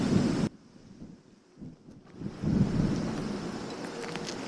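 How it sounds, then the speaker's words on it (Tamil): Strong wind buffets the microphone on the hilltop at Sornamalai temple near Thoothukudi, roaring loudly, briefly dropping to a quieter rumble and then surging back in steady, heavy gusts. "காற்று தான் அப்படியே ஆழ தள்ளுது."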